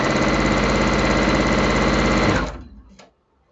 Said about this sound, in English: let me go ahead and finish sewing this row